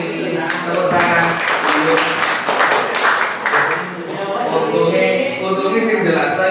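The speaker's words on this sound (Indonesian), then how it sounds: "Tepuk tangan." Group applause at a teachers' training session on positive school culture, a dense, steady patter of many hands clapping throughout with voices mixed in.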